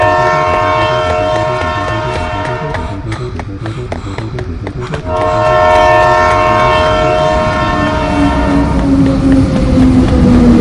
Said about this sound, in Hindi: तभी रवि को ट्रेन की आवाज सुनाई देती है